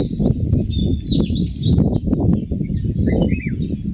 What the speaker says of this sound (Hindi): ये देखो चिड़िया की जो आवाज़ सुनाई पड़ रही है, पक्षियों की